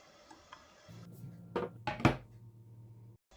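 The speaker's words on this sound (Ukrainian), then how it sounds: "Сюди ж додаємо вершковий сир та ретельно все перемішуємо в єдину масу." Grated cheese and cream cheese being mixed together in a bowl, heard as a few soft, brief scrapes and knocks of a utensil against the bowl in an otherwise quiet room.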